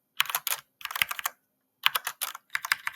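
Rapid bursts of keystrokes on a computer keyboard, close and crisp, grouped in short runs with brief pauses between them while typing out a calculus integral.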